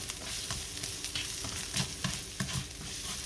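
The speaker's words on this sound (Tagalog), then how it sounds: "Ilagay na natin ang ating garlic at ginger." Garlic and ginger sauté in hot cooking oil, sizzling steadily up close with the scrape and clatter of stirring breaking through now and then.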